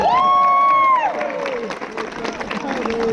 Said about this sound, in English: Big round of applause for Jacob, folks.